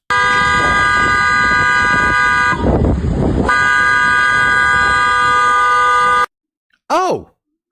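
A car horn blares in long sustained honks directed toward a sidewalk, loud and close, broken by a brief pause, then cut off, followed by a short burst of a person talking.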